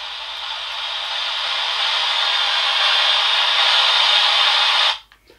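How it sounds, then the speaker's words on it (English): Steady hissing white noise from a small ghost box speaker, holding for several seconds and growing slightly louder before cutting off abruptly. "that's actually white noise"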